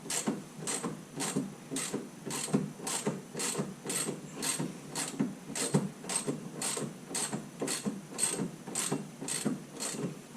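Ratchet wrench tightening a bolt on rear shocks during a shock replacement, a steady run of about twenty evenly spaced metallic clicks, close and fairly quiet, with no talking.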